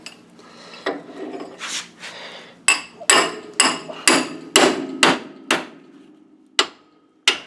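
Repeated sharp metallic hammer strikes on the front suspension of a classic Pontiac Firebird muscle car, about nine loud, close blows in an irregular rhythm, with quieter clanks and handling noises before them.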